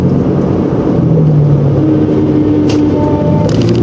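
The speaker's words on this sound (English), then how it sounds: "The 4 is grindy as shit. That means the front diff is absolutely cooked." Mitsubishi Shogun V6 driven in four-wheel drive with a worn-out front differential, a loud steady engine drone with a low grinding whine rising and shifting in pitch, up close from inside the vehicle.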